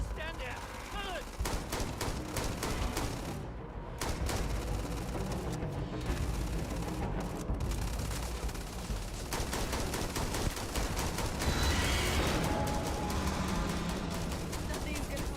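Dense, rapid gunfire in the Starfield video game, with continuous automatic bursts and heavy thuds close up, alongside shouting voices and alarm-like tones.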